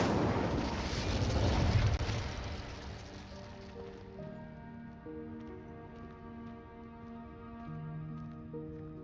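A fire spell cast in Hogwarts Legacy bursts with a loud whooshing crackle that fades over a couple of seconds, leaving soft tonal game chimes with no talk.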